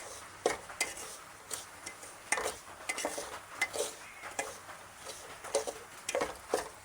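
Semolina dry-roasting in a pan while being stirred continuously, giving repeated scraping and clinking strokes of a spoon against the metal over a soft background sizzle, close and steady with no talk.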